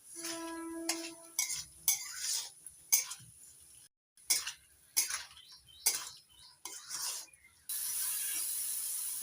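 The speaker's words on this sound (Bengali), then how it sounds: "আলুর সঙ্গে মশলাটা ভালো করে কষিয়ে নিয়েছি।" Fried potatoes stirred with spice mix in a pan, a series of close scraping and clinking spatula strokes in uneven bursts separated by brief pauses, with a steady sizzle toward the end, no voices.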